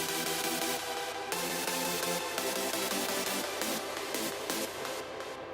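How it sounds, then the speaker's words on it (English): Detuned supersaw chords from a Virus TI synthesizer ring out bright and full, changing chord every second or so in a steady sustained sequence, with nothing else heard. "the chords, and it's just a detuned super saw kind of patch"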